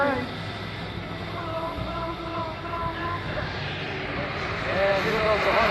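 A US Navy F/A-18 Hornet jet passes at an airshow with a broad, steady roar that swells slightly toward the end, heard from a distance under ongoing announcer commentary.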